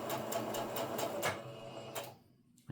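A sewing machine stitches a nine-patch quilt block in a fast, even run of needle clatter for about two seconds, then stops, followed by a single sharp click up close.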